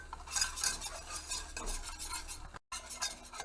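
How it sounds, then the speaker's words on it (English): A whisk beating a flour paste in a soup pot, with rapid continuous scraping and swishing strokes, close and steady, with a very brief dropout near the end. "just keep whisking it so it doesn't burn"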